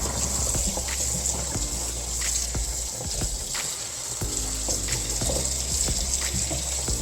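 Tap water runs steadily into a container at a kitchen sink, a continuous close gushing hiss that swells and dips slightly with occasional knocks and clinks, with no talking.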